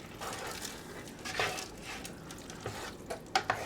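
Ditalini pasta is stirred in a Ninja Foodi cooker pot, giving faint scraping and rustling swishes with a few light clinks of the utensil against the pot.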